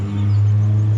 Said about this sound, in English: Sorry about that car noise there.